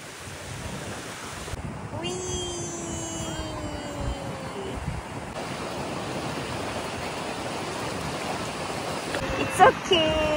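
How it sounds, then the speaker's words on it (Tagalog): Strong ocean waves at a Boracay beach, a steady broad wash of surf with a brief rise near the end, heard under occasional voices. "Ang lakas ng alon!"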